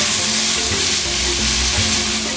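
Vegetables fry in a hot pan with a loud, steady sizzle and crackle while being stirred, close and continuous throughout with no talking.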